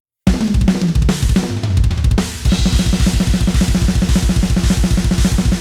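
A raw, unprocessed sampled acoustic drum kit plays a steady groove, kick and snare hits repeating in a tight rhythm with cymbal wash, loud and close, after a brief busier opening fill.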